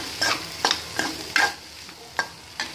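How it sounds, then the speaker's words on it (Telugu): Sweet corn and onion stirred in a pan for sweetcorn chaat, a spoon scraping in six distinct strokes over a soft sizzle, close and fairly quiet, with no voices. "ఇప్పుడు స్వీట్ కార్న్ వేసేస్తున్నాను ఇవి బాగా కలుపుకోవాలి"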